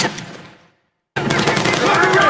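Machine gun suppressive fire in the Battlefield 6 video game, a dense, loud burst of rapid shots that drops to silence, then a second sustained stretch of gunfire rattles on close and steady.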